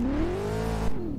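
A Roblox race car engine climbs in pitch through second gear, a steady rising whine with harmonics that peaks and eases slightly, loud and close throughout with no talk.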